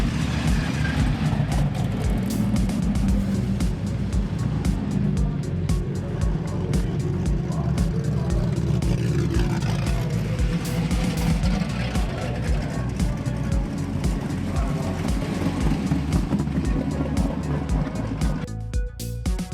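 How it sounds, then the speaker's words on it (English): Street-legal drag racing cars at a national finals event drive back down the drag strip, a continuous loud engine drone with passing-car swells filling the whole stretch, with speech over it. "And they start off by driving back down the track for all the fans to see."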